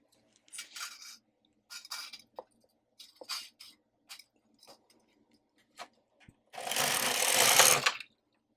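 A knitting machine carriage works yarn across the needle bed. It makes short clicking, clattering bursts and then ends with a longer, louder rattling sweep close by.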